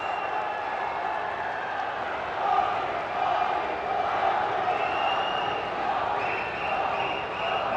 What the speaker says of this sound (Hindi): जोरदार तालियों से स्वागत माननीय प्रधानमंत्री जी का